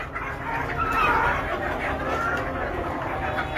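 Native desi chickens kept on a rooftop cluck steadily in a low, busy chatter, close by, with a human voice present at moments.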